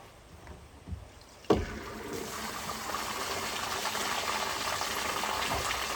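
Water gushes out as a cabin's storage tank is drained, beginning with a sharp clunk as the valve opens, then a steady, close rushing flow that keeps building.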